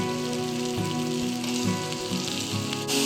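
Chicken frying in oil with onion, ginger, garlic masala and chilli powder for chicken kosha, a loud, continuous close sizzle with faint clinks, no voices.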